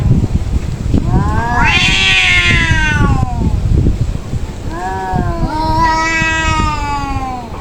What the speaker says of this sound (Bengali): এখানে একটা বন্য বিড়াল দেখা যাচ্ছে